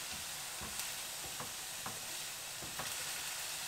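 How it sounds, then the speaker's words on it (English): Garlic and onion fry in a pan with a soft, continuous sizzle, broken by several light scrapes and taps of a spoon stirring, fairly quiet and close. "It's really important to stir the garlic so it doesn't burn."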